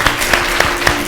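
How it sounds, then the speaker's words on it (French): Audience at a Senegalese children's quiz competition applauding after team scores are announced, a steady dense wash of clapping with a few sharper claps standing out, loud and close. "Applaudissez."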